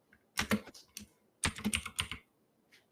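Typing on a computer keyboard in two quick close bursts of clicking keys, separated by a short pause.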